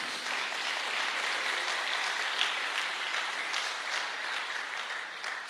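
Sustained applause from a large audience at a motivational business seminar, a dense and steady wash of many hands clapping with no break for the whole stretch.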